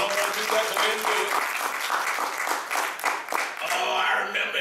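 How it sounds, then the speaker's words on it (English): A church congregation breaks into lively, uneven applause that lasts several seconds, with voices calling out over the clapping. "You'll go ahead and give him a round of applause."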